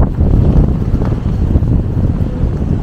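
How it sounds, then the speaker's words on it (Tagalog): Strong wind buffets the microphone with loud, continuous low rumbling and gusty blasts, no talking, on a walk to Yokohama international terminal. "Tapos mahangin."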